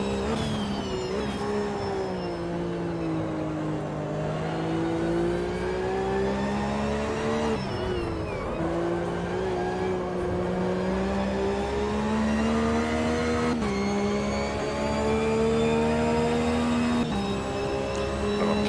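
Porsche Cup race car from Automobilista 2, a rear-engine car running at the Nürburgring, with a steady loud engine drone rising and falling through the gears for the whole stretch and a brief lift around the middle.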